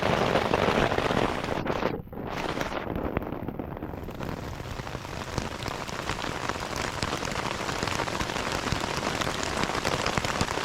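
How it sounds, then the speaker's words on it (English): Steady rain drumming on a new tent while wild camping on a bike tour in Sweden, a dense continuous patter close around the listener with faint wind, no voices. "First rain in the new tent."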